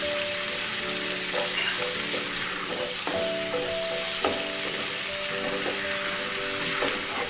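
Black and green cardamom, cumin and tomatoes for an achari chana fry sizzling steadily in a pan, a continuous close crackle with occasional stirring knocks and faint tonal hum throughout.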